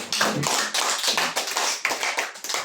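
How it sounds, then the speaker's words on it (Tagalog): A church congregation claps for the Lord during a sermon, giving a steady, dense burst of many hands clapping together at close range for a few seconds. "Lahat na nagmamahal sa salita ng Diyos, pumalakpak sa Panginoon."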